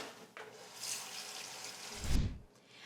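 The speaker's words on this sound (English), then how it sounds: "I am going to put water in the pot about an inch over the meat" Tap water runs into a cooking pot holding meat for pozole, a steady hissing splash that deepens into a louder, lower gush near the end as the pot fills, with no talk over it.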